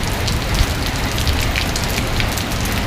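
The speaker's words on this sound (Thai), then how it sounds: "บรรยากาศครึ้มฟ้าครึ้มฝน ฝนก็กำลังเดิน" Heavy afternoon rain pours down on the town of Prasat in Surin, Thailand, a loud, unbroken hiss and patter of drops hitting surfaces nearby.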